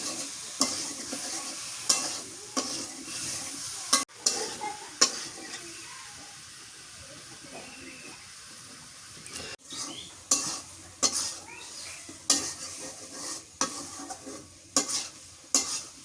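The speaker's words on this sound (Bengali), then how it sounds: "ঢেঁড়সটা পিছলে তো ভালো করে কষানো যায় না, লাগে লাগে ধরে।" Okra being stir-fried in a pan with a metal spatula, giving repeated scraping and clinking strokes over a steady low sizzle, with bursts of stirring separated by a quieter stretch midway.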